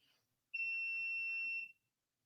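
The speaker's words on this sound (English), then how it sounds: "I gotta do the alarm real quick." A single steady electronic alarm tone sounds for about a second, piercing and bright, then cuts off, with quiet room background around it and no talking.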